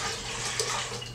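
Water poured from a container into a cooking pot on the stove while making a West Indian salmon soup, a steady splashing rush running close and continuous for about a second.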